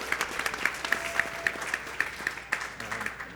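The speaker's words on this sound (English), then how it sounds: "I'll clap for that as well." Audience applause at a film festival talk by a small family honey producer from the California foothills, a thin patter of scattered claps with a few sharper hits, moderately close and unaccompanied by speech.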